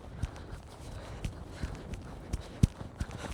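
A horse walking on soft ground, hooves landing as a handful of sharp, irregular clip-clop thuds at close range over a faint, steady background.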